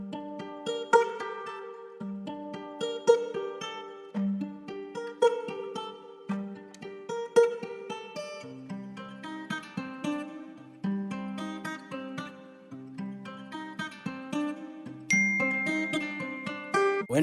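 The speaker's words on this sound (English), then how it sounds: "I started off with this guitar loop that I found from Slooply or slooply.com" A sampled guitar loop from a royalty-free loop library plays on its own with no talk, a steady repeating pattern of plucked notes and chords.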